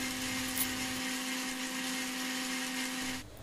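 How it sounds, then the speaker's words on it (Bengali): An electric blender grinds whole spices for homemade kasundi mustard relish, a loud steady whirring drone up close that runs for about three seconds before cutting off. "এবার দেখুন ব্লেন্ডিংয়ের জন্য দিয়ে দিচ্ছি এবং ব্লেন্ড করে নিচ্ছি, খুব ভালোভাবে গুঁড়ো করে নেবেন।"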